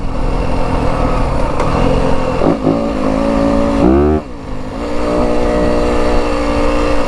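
A 2025 Yamaha WR250F dirt bike revs hard in second gear, loud and close. The engine drone holds steady, then dips and sweeps sharply upward as the revs climb, before settling back into a continuous buzz.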